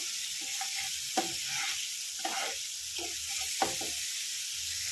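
Soft, continuous sizzle of a spice paste frying in a pan, with a few scrapes and clinks of a spoon stirring.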